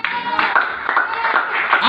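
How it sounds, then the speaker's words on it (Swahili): A church congregation claps hands together during a Swahili sermon, a dense, steady wash of many palms close by, with a voice speaking over it. "Pigia Yesu makofi."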